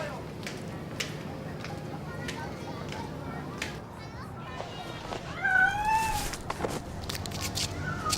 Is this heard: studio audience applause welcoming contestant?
no